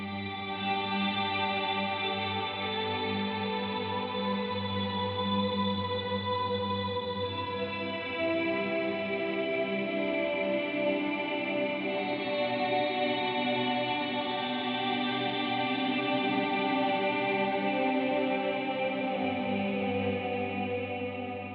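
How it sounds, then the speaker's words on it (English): Electric guitar chords through a worship pedalboard wash together in a long, swelling reverb with no audible pick attack, shimmering tones overlapping and slowly shifting. "I'm picking different chords, but you're not hearing the attack of it, so you're only hearing the reverb part."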